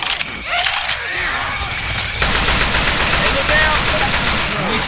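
Dense, continuous gunfire in Left 4 Dead 2 on a swampy plantation level, loud and unbroken throughout with mechanical clatter mixed in.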